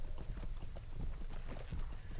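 A horse's hooves clip-clop at a steady riding pace in the Lord of the Rings Online video game, a quiet continuous beat under a low rumbling ambience.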